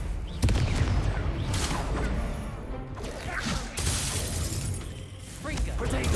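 Confringo explosive spell from the video game Hogwarts Legacy, loud repeated blasts and crashing impacts over a dense battle din, with voice lines spoken through the bursts.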